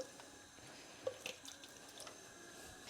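Tap water runs into a pan to rinse out leftover curry paste in a home kitchen, a quiet faint trickle with a few soft drips and splashes, no voices.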